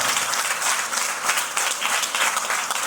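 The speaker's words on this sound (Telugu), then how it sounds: "గట్టిగా చప్పట్లు కొడదాం ఒకసారి" A congregation at a church gathering claps loudly and steadily together, a dense, sustained burst of applause that stays close and even throughout.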